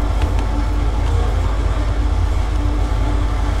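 A train rushes along in Call of Duty: Modern Warfare 3 while a car chases it, producing a loud, continuous rolling rumble with no speech.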